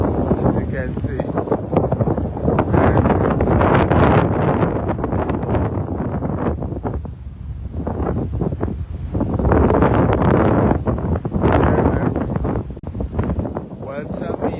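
Strong wind on the Mauritius coast buffets the microphone with loud, gusty roaring that surges and eases, while a person talks underneath.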